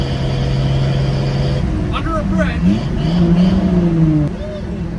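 A Chevy K10 Squarebody truck at highway speed, its exhaust droning steadily and reflecting off a wall, with someone speaking briefly over the engine hum.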